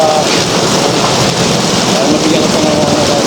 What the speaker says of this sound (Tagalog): Oo nga, lakas ng ulan, Kuya Dante, no?